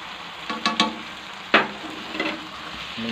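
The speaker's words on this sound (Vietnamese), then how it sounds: "Mình cho trứng vào, mình xào chung." Shrimp and quail eggs are stir-fried together in a pan, a soft continuous sizzle broken by a few sharp scrapes and clinks of the spatula against the pan.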